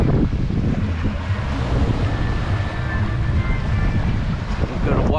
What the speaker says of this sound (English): it's too goddamn windy. Like 35-mile-an-hour winds